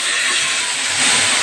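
Chicken meat hitting hot white cooking oil in a pan, a loud, steady close-up hiss of sizzling that swells slightly near the end.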